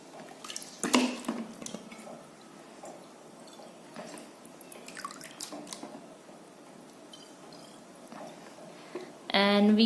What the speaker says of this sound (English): now I will fill half water in this bottle.